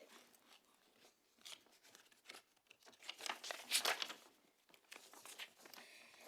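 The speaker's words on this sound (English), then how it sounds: "Sorry, a lot of shuffling." Papers shuffled and handled at a council meeting in Sheffield, giving a run of irregular crinkling, rustling and tearing-like bursts at close range, loudest in the middle, with no talking.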